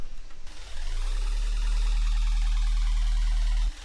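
A tearout bass patch in Serum 2, run through a reverb filter, begins with a brief click and then holds a heavy, sustained, buzzing low drone with a swelling, washed-out resonant tone until it cuts off near the end, with no voice present.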